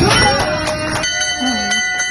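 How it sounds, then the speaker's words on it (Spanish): A bell is rung to mark the end of twelve chemotherapy sessions for breast cancer, giving several bright metallic strikes with ringing overtones that decay over about two seconds. "¿Qué significa tocar esa campana?"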